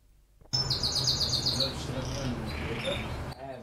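Small birds chirp and twitter steadily over a constant buzzing background, with rapid high trills throughout.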